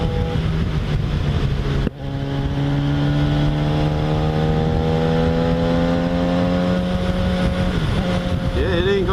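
A Yamaha FZ6R motorcycle engine holds a steady high-revving drone in top gear while riding, rising slowly in pitch with wind rush, and a voice speaks briefly over it.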